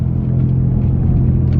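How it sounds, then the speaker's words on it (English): A steady low engine rumble from a BMW M3 (F80), continuous and fairly loud throughout, with no voices. "Did you hear the car a little bit?"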